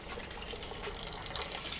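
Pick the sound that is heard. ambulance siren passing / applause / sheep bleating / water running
water running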